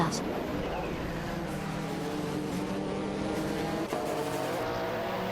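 A Ford RS200 IMSA GTO and a Porsche 961 LM race in a video game, engines droning steadily with a passing whoosh near the end.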